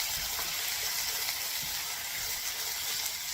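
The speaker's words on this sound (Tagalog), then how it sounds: "Gisa nyo ng konti." Chicken and carrots sautéing in a pan with pepper and onion-garlic powder: a steady, soft sizzle and frying hiss, even and continuous, with no talk over it.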